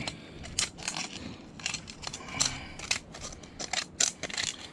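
A tomato paste can being cut with scissors while making a can stove: a series of sharp, irregular metallic snips and crunches up close, with no talking.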